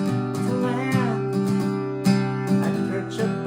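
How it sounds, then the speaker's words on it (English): Acoustic guitar strums the verse pattern of a song with uneven, syncopated strokes over ringing sustained chords, played up close and steady with no voice. "The strumming pattern for the verse is kind of tricky"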